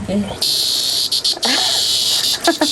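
A cricket chirps in a loud, continuous high trill close by, broken by brief gaps, with a voice speaking briefly at the start and other short vocal sounds.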